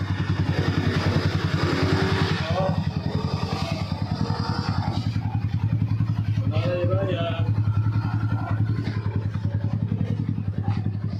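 An upgraded Yamaha motorcycle, bored from 149cc to 183cc, on a test ride. Its engine thrums with a steady rapid pulsing beat throughout, close and loud, while people talk over it.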